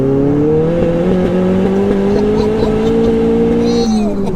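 A 507 bhp 2.3-litre Ford Fiesta hatchback revving hard, a loud close engine drone with steady rising harmonics held for several seconds before dipping briefly near the end.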